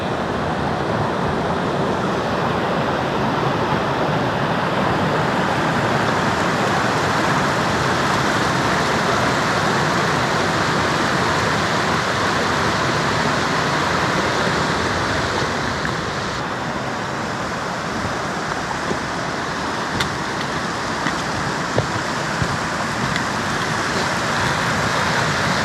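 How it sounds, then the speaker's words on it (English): A waterfall in Olympic National Park thunders close by, a loud, continuous broadband roar of rushing water that stays steady throughout with no voices. "I found a way better waterfall on this side"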